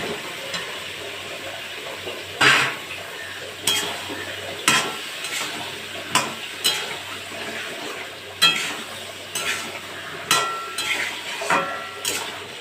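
Cut green jackfruit sizzles as it is stirred into a pot for a homestyle jackfruit and prawn curry, with repeated scraping strokes of a utensil at a regular rhythm over a low frying hiss.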